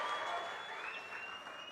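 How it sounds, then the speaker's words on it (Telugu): Crowd applause at a public political meeting in Nandyal addressed by a chief minister, a broad patter of many hands, distant and fairly faint, with a steady tone running through it. "గట్టిగా చప్పట్లు కూడా చెప్పండి,"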